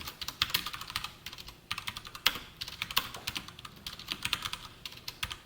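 Typing on a computer keyboard while writing Java code, a steady patter of close, crisp key clicks with short pauses and a few louder keystrokes, no talking.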